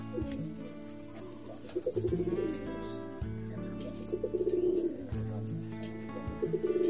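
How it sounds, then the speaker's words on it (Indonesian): Cooing of a Bali pigeon of the Gianyar breed, black with an ivory beak and ivory wings, repeating low rhythmic coos in several phrases, close and clear with no talking. "Inilah ciri khas merpati Bali endemik Kabupaten Gianyar, hitam cucuk gading, dan sayap pun juga gading"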